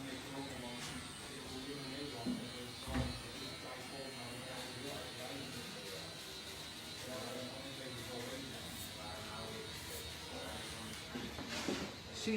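Electric hair clipper buzzing steadily through a short haircut, a continuous near hum with brief louder bumps, while someone talks over it throughout.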